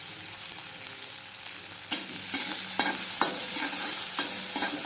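Onions fry in hot oil for a goat meat curry, giving a steady sizzle broken by sharp stirring scrapes of a utensil against the pan, close and clear.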